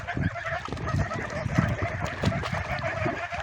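Geese honk and squabble at close range in a farmyard setting, a busy run of overlapping calls and harsh cackles throughout, with other fowl mixed in and no clear talk over it.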